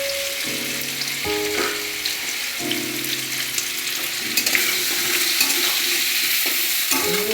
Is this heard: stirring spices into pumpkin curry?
yes